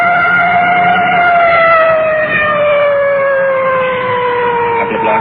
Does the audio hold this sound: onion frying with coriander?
no